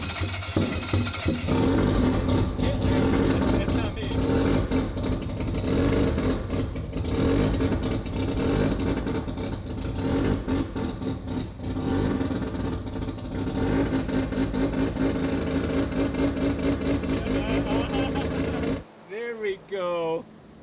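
A Mazda semi-peripheral-port two-rotor rotary engine fitted in a Corvette runs loud and close with a rough, pulsing, fluttering idle and occasional revs for about nineteen seconds, then shuts off abruptly.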